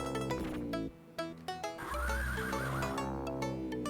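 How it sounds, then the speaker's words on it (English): Horse neighing and whinnying in the video game Crystal's Pony Tale, loud clear whinnies repeated over a backdrop of bright chiptune-style game music, with brief gaps between calls. "When you neigh,"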